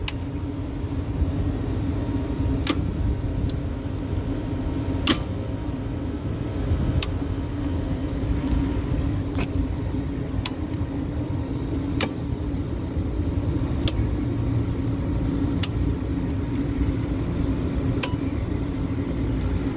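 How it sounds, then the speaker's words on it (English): Walk-in cooler compressors running as a steady low mechanical hum and rumble, with sharp intermittent clicks and ticks spaced a few seconds apart. "So we're gonna go ahead and fire up compressors."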